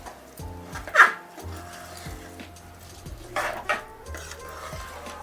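A spoon scraping and clinking against a pot while rice is stirred into masala for tomato pulao, with repeated soft scrapes and a few sharper metallic knocks, close by and without talk.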